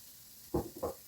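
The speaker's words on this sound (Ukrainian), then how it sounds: "Все перемішую і смажу до готовності яєць." Eggs stir-frying with chicken in a pan over medium heat, giving two short, close sizzling bursts against a quiet background with no talk.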